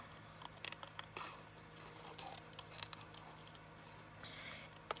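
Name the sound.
cutting paper with spring-loaded scissors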